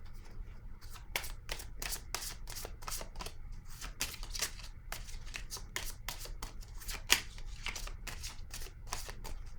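Tarot cards are shuffled and drawn by hand in a quick, close run of crisp riffling flicks and slaps that goes on throughout, with no talk.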